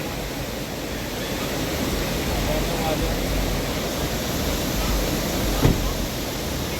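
Floodwater rushing over a bridge in heavy rain in Khedbrahma taluka, a dense, steady roar of churning water that holds constant throughout, with a faint thump near the end.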